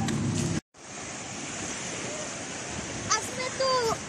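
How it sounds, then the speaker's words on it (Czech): Sea waves wash onto a beach under an overcast sky, a steady roar of surf with wind buffeting the microphone, a brief dropout early on, and faint voices in the background. "A jsme u moře konečně, viď?"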